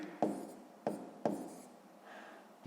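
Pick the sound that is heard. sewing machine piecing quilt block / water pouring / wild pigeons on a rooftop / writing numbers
writing numbers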